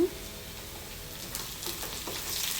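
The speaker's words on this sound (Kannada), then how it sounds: "ಅದನ್ನು ಚೆನ್ನಾಗಿ ಫ್ರೈ ಆಗಬೇಕು ಸ್ವಲ್ಪ ಕಂದು ಬಣ್ಣಕ್ಕೆ ಬರೋವರೆಗೂ ಹುರ್ಕೊಳ್ಳೋಣ" Ivy gourd and garlic fry in a pan until browned, giving a soft continuous sizzle with faint stirring scrapes that grow slightly louder toward the end.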